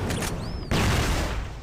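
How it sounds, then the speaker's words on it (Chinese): A grenade blast in a shooting video game lands as a sudden loud boom after a brief whistling tone and some rattling gunfire, its noisy burst filling the rest of the moment. "手雷来了，不要被误伤"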